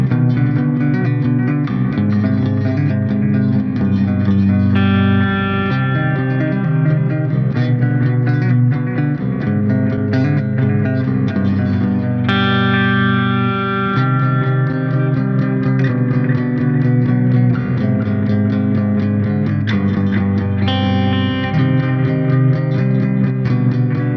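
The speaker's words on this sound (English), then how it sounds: "I really like the tube echo on the Ampero" An electric guitar plays through the tube echo delay effect of a Hotone Ampero ONE processor, loud, sustained chords and notes with repeating echoes trailing behind each phrase.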